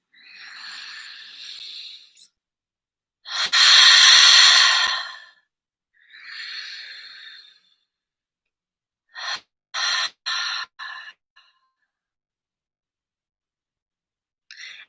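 Deep breathing during a guided meditation, with long, close breaths in and out separated by silence, followed by a few short choppy breaths toward the end.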